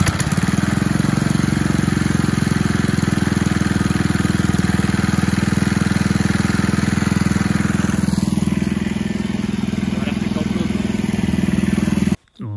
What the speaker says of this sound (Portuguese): Mistura pronta, bora ligar o motor e trabalhar.